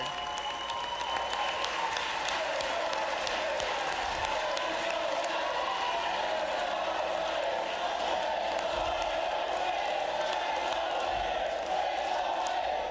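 Applause from a crowd of state senators standing in a legislative chamber during a governor's budget address, steady dense clapping that fills the room and carries on throughout with scattered voices mixed in.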